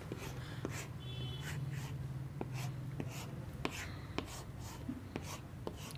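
A pen scratches out a chemistry formula in quick, quiet strokes, with a steady rhythm of short scribbles and taps against a low background hum.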